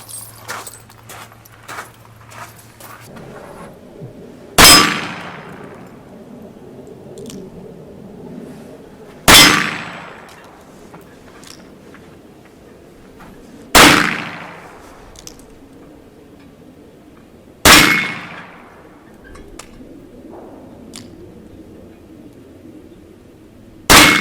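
A re-barreled Rossi Model 851 .38 Special revolver is test-fired outdoors in five loud, sharp shots. They come at steady intervals about four to five seconds apart, and each one rings briefly, with no talking between them.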